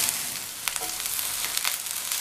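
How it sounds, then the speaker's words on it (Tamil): Thin-sliced okra fries crisp in oil in a pan, a steady close sizzle with scattered crackles and pops throughout, no voices. "நல்லா மொறு மொறுன்னு வர வரைக்கும் வறுத்துக்கணும்."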